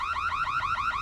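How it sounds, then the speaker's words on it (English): An electronic alarm at an art exhibition goes off loudly, its warbling tone sweeping up and down in a fast, steady repeating cycle with nothing else audible. "The alarm's gone off at the art exhibition again."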